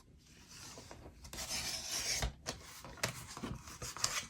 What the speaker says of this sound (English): I have my trimmer here. Just going to take off the teensiest bit.